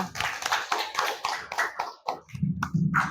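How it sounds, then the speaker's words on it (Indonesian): A classroom of students claps for a classmate, scattered quick hand claps that thin out before a voice takes over near the end. "Tepuk tangan untuk Kaila."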